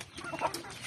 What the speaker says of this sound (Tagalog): Inaaway nga ng manok.